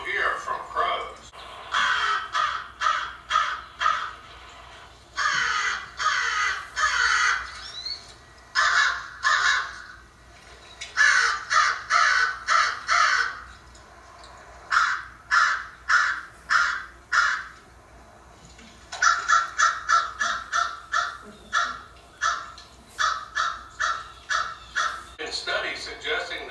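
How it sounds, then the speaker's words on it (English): Crows caw loudly in repeated rhythmic bursts of several harsh calls each, with short pauses between volleys, continuing for almost half a minute. "Here's the rundown of calls you will hear from crows."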